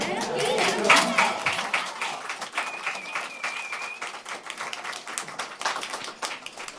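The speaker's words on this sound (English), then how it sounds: "Let's give them applause." Applause rises from the audience at a school board of education meeting, a dense patter of many hands clapping at moderate distance that stays steady for several seconds and then thins slightly.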